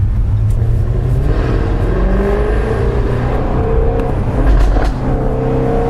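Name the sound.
car exhaust popping and crackling on overrun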